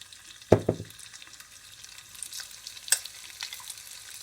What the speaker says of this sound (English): I'm gonna fry my shrimp for about 3 to 4 minutes